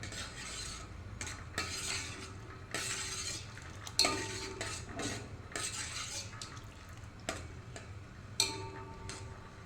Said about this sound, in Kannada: ಇವಾಗ ಚೆನ್ನಾಗಿ ಇದನ್ನೊಮ್ಮೆ ಮಿಕ್ಸ್ ಮಾಡ್ತೇನೆ